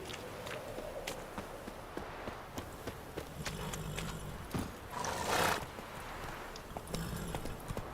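Hooves of Roach, the horse in The Witcher 3, drum in a quick gallop over game ambience, with a louder burst midway that may be a snort or neigh.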